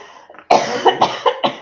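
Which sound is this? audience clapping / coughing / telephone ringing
coughing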